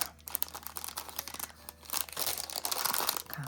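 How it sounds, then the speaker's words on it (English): Crinkly plastic packaging being pulled open by hand, a close, busy run of crackling, rustling and tearing that swells louder toward the end, with no voices. "Sorry about the crinkliness."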